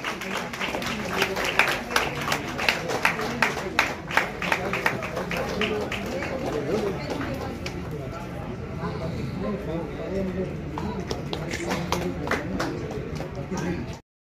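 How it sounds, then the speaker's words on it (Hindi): A hall full of guests at a Mumbai Vaidya Sabha awards function, held at a hotel in Andheri, claps loudly. Rhythmic, beat-like clapping comes first, then it dissolves into a sustained, dense wash of applause that fades out abruptly at the close. "तालियों का गड़गड़ाहट से हॉल गूंजना चाहिए।"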